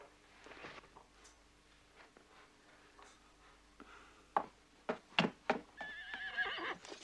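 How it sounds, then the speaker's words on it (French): A horse whinnies and snorts in sharp bursts toward the end, after quieter rustling and hoof shuffling. "Amène mon cheval à l'écurie."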